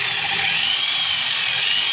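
A power drill whines loudly and steadily at close range, running without pause, driving a valve-lapping tool to grind engine valves.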